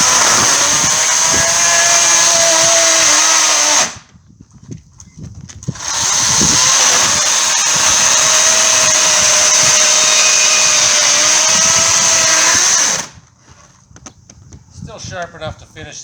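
An EGO 56-volt 14-inch battery chainsaw cuts wood with a loud, steady whine, running for about four seconds, dropping out briefly, then running again for about seven seconds before stopping, with some clatter after.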